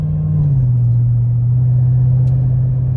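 Steady engine and road rumble from a car merging onto a parkway, loud and continuous, with a slight drop in engine pitch early on as it cruises, no voices present.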